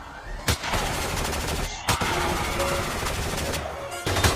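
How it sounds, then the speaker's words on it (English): Gunfire from men opening fire in a Jurassic Park fan film, a dense continuous barrage of shots with a few sharp louder bursts standing out, loud and close throughout. "Men, open fire!"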